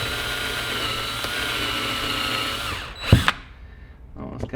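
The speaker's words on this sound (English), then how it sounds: "let's try and drill out the old rivets" A power drill bores out old rivets on a broken Ferrari 458 leather strap, starting with a small bit. A close, steady whine runs for about three seconds, then ends with a clunk as it bites through, followed by quiet handling.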